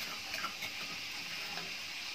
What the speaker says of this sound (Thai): น้ำมันกำลังปวดขึ้นมา